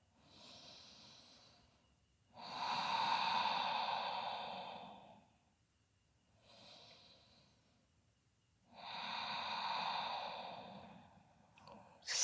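Slow, deep yoga breaths during a seated forward fold: two long, loud, airy exhalations near the microphone, each lasting about three seconds, separated by quieter inhalations, with no talking.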